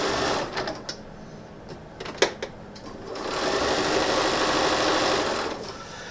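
A sewing machine stitches a quilt seam in short stops and starts, then settles into a longer steady whir of running stitches, close and fairly loud, with a few clicks and taps of handling between bursts.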